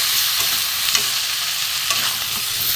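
Chicken pieces with papaya fry loudly with salt in a pan, giving a constant, dense sizzle with a scraping stir running through it, close and with no voices.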